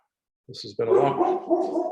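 A couple of small dogs let out two quick, sharp barks at home, and a person's voice immediately follows and carries on talking over the faint background.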